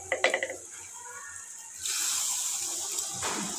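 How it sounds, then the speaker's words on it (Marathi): Hot water poured from a pressure cooker into a simmering spinach curry, heard as a steady close hiss and splash lasting a couple of seconds after a few brief knocks. "उरलं गरम केलेलं पाणी आपण घालून घेऊया भाजीला"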